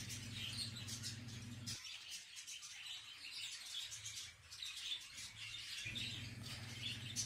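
Caged canaries and finches, among them goldfinch, siskin and greenfinch, sing and chirp continuously in a dense, bright chorus, with a low steady hum in the room beneath.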